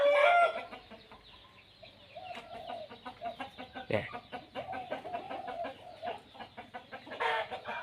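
A rooster crows nearby among clucking chickens, loud and drawn out, while a voice briefly says a word.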